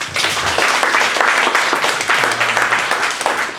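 Audience applause at a data visualization meetup presentation session, a sustained, dense wash of clapping from a room full of people, loud and steady for several seconds with faint voices mixed underneath.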